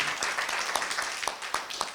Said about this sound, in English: Please give the presenter a round of applause